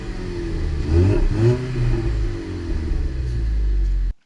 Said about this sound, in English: Although it is turbocharged, you can hear the turbo at low speeds, but overall the sound could be improved.